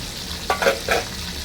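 Katla fish curry being poured out of a pan, a few short wet splashes and scrapes close by, fairly quiet.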